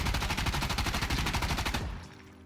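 QBZ rifle without attachments fired full-auto in a video game, a loud, rapid, even burst of close gunshots lasting nearly two seconds before cutting off abruptly into a faint tail.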